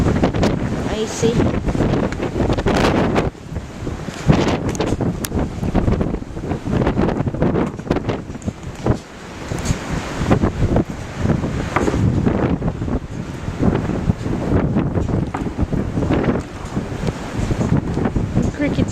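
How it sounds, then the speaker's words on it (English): Strong, gusty wind buffets the microphone outdoors on a cold, icy day, a loud roaring rush that rises and falls throughout, with people talking faintly underneath. "It's so stinking windy."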